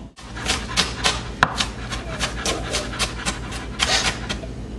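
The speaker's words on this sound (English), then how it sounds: "you get an onion, you cut the onion very small" A knife chops an onion very finely on a cutting board for lobster fra diavolo, giving quick, light, steady taps at close range with a soft background hum and no talking.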